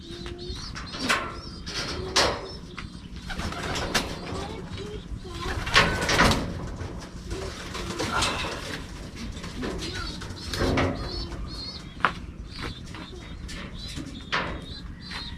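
Pigeons cooing and shuffling inside a breeding loft, soft intermittent calls with wing flutters and a few knocks, heard under someone talking nearby.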